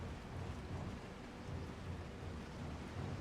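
Heavy rain pours steadily in the video game Resident Evil 4 Remake, a dense, loud roar with low rumbling thunder rolling underneath throughout.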